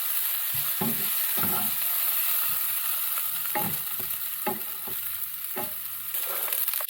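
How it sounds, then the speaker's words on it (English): Onions frying in a pan, a constant loud hiss and sizzle overlaid with regular scraping strokes of a spatula stirring them, with no talking. "I'm going to cook the onions for a little bit."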